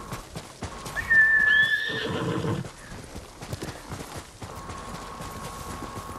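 A horse whinnies loudly in a high, wavering call in the video game Ghost of Tsushima, followed by soft hoofbeats and ambient rustling; no one speaks.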